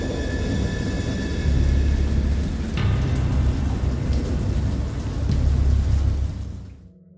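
Thunderstorm with steady heavy rain and low rolling thunder, set as a dramatic backdrop to a reading of a Lovecraft horror tale, with a sharp crack near the three-second mark and a second rumble swelling later before the storm fades out.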